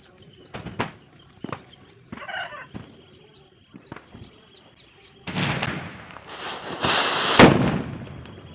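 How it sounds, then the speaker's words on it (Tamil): Sharp Diwali firecracker bangs go off one by one, then a long loud crackling burst of rapid explosions builds and fades. "பட்டாசு வந்து வெடிச்சிருச்சு"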